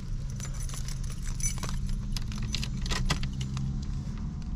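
Car keys for a 1984 Buick Riviera jangle continuously in a rattling metallic shimmer, close and fairly loud, over a low rumbling background.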